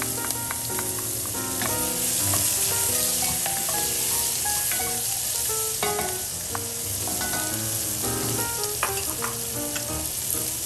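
Red onions frying in a pan over medium-low heat while short rib pappardelle is cooked, a steady close sizzle with clinks and scrapes of stirring throughout, and no talking.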